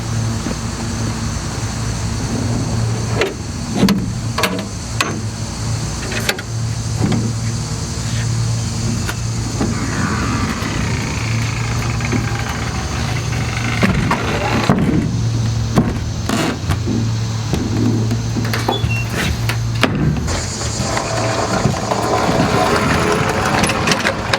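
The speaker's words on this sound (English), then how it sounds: "So let me pull out the mower, got the bagger on it" An Exmark Commercial 30 lawn mower fitted with a bagger runs steadily, its engine a loud, constant drone throughout, broken only by occasional clicks and knocks.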